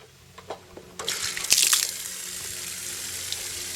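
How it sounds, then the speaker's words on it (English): Water rushing out as an Atwood RV water heater tank drains, starting with a few faint drips and clanks, then a sudden steady gush of flowing water that continues close by. "Now fully drain the tank again."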